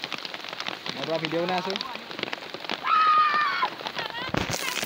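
Heavy rain pours steadily over a flooded village, a dense nearby patter that continues under a man's speech.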